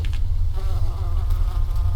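A fly buzzing over a corpse in the horror game Wrong Floor, a loud, continuous low drone with a wavering whine, close and steady for the whole moment.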